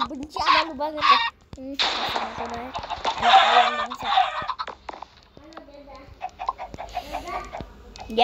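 Game-style chicken clucks and squawks from a Minecraft-style co-op game come in repeated bursts, with people talking and laughing over them throughout.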